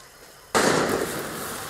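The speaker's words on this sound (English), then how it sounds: "Shit, who's shooting?" Gunfire in Far Cry 6: a single sharp, loud crack bursts in after a quiet start and is followed by a lingering, echoing tail.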